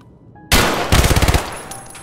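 Gunfire in Escape from Tarkov, opening with a loud sudden shot and then a rapid burst of automatic fire, close and harsh, fading out after about a second.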